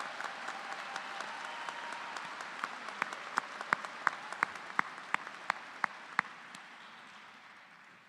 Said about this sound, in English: Let's give all of those award winners a big round of applause.